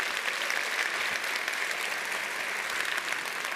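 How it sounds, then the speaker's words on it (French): A conference audience at a JavaScript talk applauds the organisers, a steady, dense wash of many hands clapping in a hall, fairly distant and even throughout, with no talk over it. "Est-ce qu'on peut juste faire un tonnerre d'applaudissements pour les organisateurs de cette conf qui est extraordinaire?"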